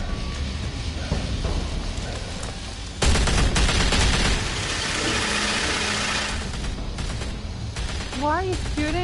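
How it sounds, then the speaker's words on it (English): Gunfire in the Batman: The Telltale Series video game, a sudden loud burst of rapid shots that continues in dense volleys, with engine-like rumble and scattered voices around it. "Why are you shooting?"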